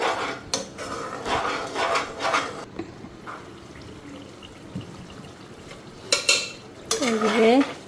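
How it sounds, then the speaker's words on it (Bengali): Masala spice paste frying in oil in a pan with potatoes, heard as a soft sizzle beneath repeated scraping and clanking of a spoon against the pan, with louder metallic knocks near the end. "মশলাটা এখন ভালো করে ফ্রাই করে নিই"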